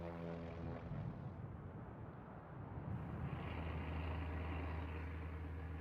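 PBY Catalina flying boat engines drone in a low, continuous propeller rumble, steady and fairly loud, with a deep throbbing tone that thickens toward the end as the aircraft takes off into the night.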